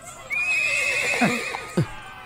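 A horse pulling a tonga (horse-drawn cart) whinnies loudly and at length as the cart comes to a halt, with a couple of brief snorting calls following close by, and no talk over it.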